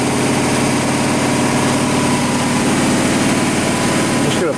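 The spindle of a Doosan DMV3016LD machining center runs with a loud, steady mechanical whine and hum, continuous and unchanging throughout, with a faint shift right at the end.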